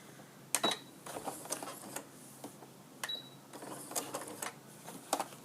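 A sewing machine stitches a quilt appliqué in short bursts, a few quick mechanical whirring runs separated by pauses, close and fairly quiet.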